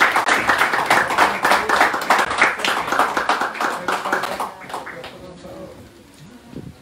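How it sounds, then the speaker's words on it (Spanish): An audience applauds Puerto Rico police members at a Titanes 2022 press conference, with dense, steady clapping for about five seconds before it thins out. A voice talks near the end. "Pedido un fuerte aplauso para los miembros de la Policía de Puerto Rico."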